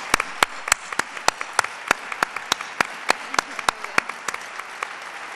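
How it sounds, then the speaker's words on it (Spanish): Applause at an anniversary gathering of a flamenco cultural club, heard as a sparse patter of individual sharp claps spread steadily over a few seconds, fairly close and moderately loud, with no voices over it. "Un aplauso para todos ellos."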